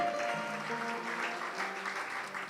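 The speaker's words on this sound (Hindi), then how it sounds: "एक बार जोरदार ताली बजा दीजिए पूर्णिमा जी के लिए" An audience at a Shrimad Bhagwat Katha gathering at an ashram claps for a temple donor, a dense, steady patter of many hands, fairly close, with musical tones sounding faintly beneath.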